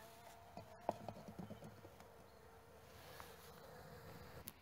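About 300 honeybees being caught from a hive for a Varroa sugar-shake test give a faint, steady buzzing hum, with soft clicks and taps from handling the equipment close by.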